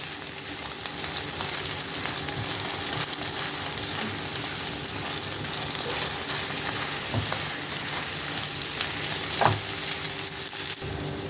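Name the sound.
cheese stuffing frying and being stirred in a pan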